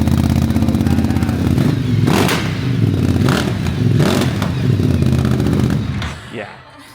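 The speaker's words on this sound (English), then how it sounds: "I love the sound of this bike." A brand new 2026 BMW motorcycle engine roars loudly and steadily nearby, with repeated revving surges over a rough idle before fading out; a brief voice is heard.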